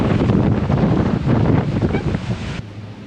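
Strong wind buffets the microphone while riding a bicycle outdoors near a boatyard in Skagway, Alaska, a loud continuous rumbling roar that drops off sharply near the end.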